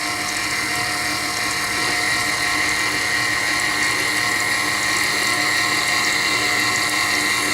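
A steady mechanical whir of an electric mixer runs continuously at an even, moderate level, with a broad hum and no talking.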